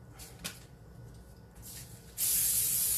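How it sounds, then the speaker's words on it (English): A short hiss from a spray can, then a longer, loud continuous spray of cooking oil close by onto a 9x13 glass pan after some quiet handling noises. "spray the pan here"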